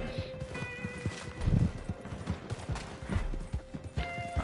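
A video-game horse clip-clops in a quick galloping rhythm with a whinny mixed in, heard close under a player's chatter, with thumps and tonal game effects.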